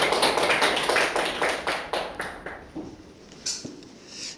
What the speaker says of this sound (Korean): 큰 박수 맞아주시면 감사하겠습니다